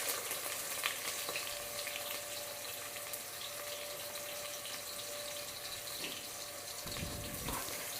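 Chopped onion pieces fry in oil for Andhra-style chicken pulao, a faint, even hiss that carries on without a break, with a soft rush of water-like noise near the end.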